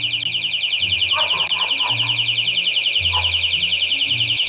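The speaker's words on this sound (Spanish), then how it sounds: "No sabía que la caja era parte de una trampa con una alarma configurada para sonar." A trap alarm rigged to a box goes off, a steady, loud, shrill electronic beeping that pulses continuously throughout, with faint bird-like chirps and low rumbling underneath.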